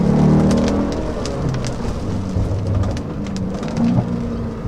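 Rain heard from inside a moving Mercedes-Benz SLK 55 AMG sports car: a dense, steady wash of raindrops over a low rumbling road and engine drone, with scattered sharper drop taps, close and continuous with no talking.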